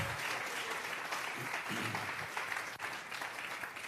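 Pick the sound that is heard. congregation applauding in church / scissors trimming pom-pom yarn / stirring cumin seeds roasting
congregation applauding in church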